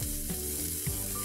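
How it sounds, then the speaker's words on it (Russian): Onion slices sizzle steadily in heated vegetable oil in a frying pan over medium heat, a constant crackling hiss with no voices. "Обжариваем ее на среднем огне, пока она не приобретет золотистый оттенок."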